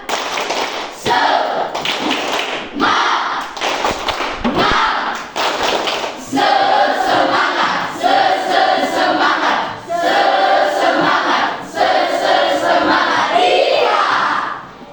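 Indonesian language class performing a rhythmic spirit clap, bursts of sharp group clapping in a patterned beat with short pauses between sets, mixed with shouted chant-like voices.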